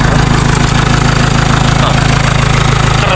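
A Dacia Sandero's engine runs steadily at idle, close and loud, with a constant low mechanical hum and faint knocking-like texture throughout, no one speaking over it.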